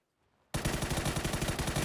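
Rapid automatic gunfire in PUBG, shooting at a vehicle's tires, breaking in abruptly after a near-silent moment and continuing as a fast, even burst of loud shots.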